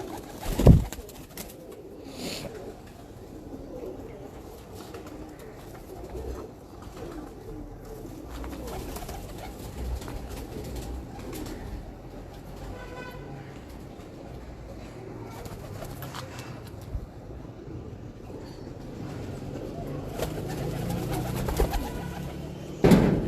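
Pigeons on a rooftop in DHA Lahore coo softly and repeatedly against a steady background murmur, with a brief flutter of wings near the start and end.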